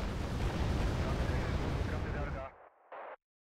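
Grenade launchers firing in the real-time strategy game Wargame: Red Dragon: a loud, dense barrage of booming blasts and rumble that runs continuously, then cuts off abruptly with a couple of short trailing bursts.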